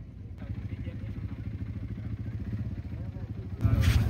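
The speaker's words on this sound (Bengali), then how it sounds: "ওই দূরে দেখা যাচ্ছে অনেকেই বাইক রাইড করছে।" Dirt bikes ride across the Dubai desert, a steady mid-pitched engine drone holding throughout and growing louder and rougher near the end.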